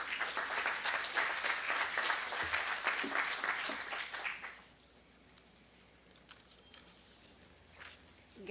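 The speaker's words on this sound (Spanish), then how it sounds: "Un fuerte aplauso para la doctora." A conference audience claps for a doctor for about four seconds, with dense, fairly loud applause that stops abruptly and leaves a quiet room with scattered small noises.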